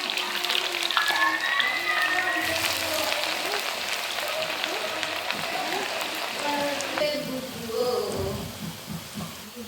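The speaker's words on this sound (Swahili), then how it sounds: "Hapa tunakaanga vitunguu vyetu." Onions frying in a pan for chicken biryani, a steady close sizzle with occasional stirring clatter, continuing throughout at moderate loudness with no talk.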